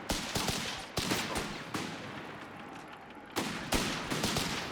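Bursts of machine gun fire in the strategy game Company of Heroes 3, rapid rattling volleys repeating in several clusters, fairly faint and distant amid battle noise.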